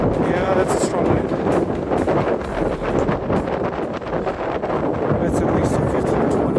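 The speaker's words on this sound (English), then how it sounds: "Yeah, that's a strong wind." Strong wind buffets the microphone at an ancient outdoor ruin on a steep slope, roaring loud and continuous for the whole stretch with gusty rises.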